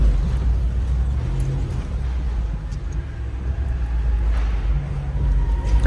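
A Jeep with a 392 engine in four-wheel drive, driving on a ride course at an auto show, heard as a steady low engine rumble with road and cabin noise.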